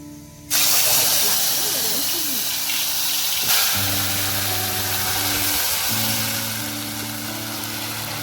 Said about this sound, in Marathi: तर आपलं तेल तापलंय आणि आता आपली प्युरी टाकायची.